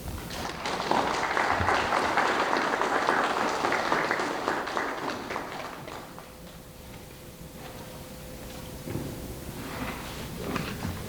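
An audience applauds the Chief Justice at the launch of the Eastern Caribbean Supreme Court's e-litigation portal: broad, steady clapping fills the first half, then thins and fades to scattered claps.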